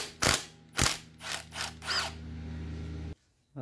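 Metal clicks from a ratchet loosening a 10mm bolt on a 1.6L Ecoboost engine, several loud broadband bursts in quick succession followed by a steady low hum, then a sudden drop to near silence.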